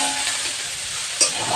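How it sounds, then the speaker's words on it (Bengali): Dheki shak greens fry in a pan, a steady broadband sizzle running throughout with one brief clink of a utensil near the end; no voices. "এরপরে আর একটু ভেজে নামিয়ে নেব।"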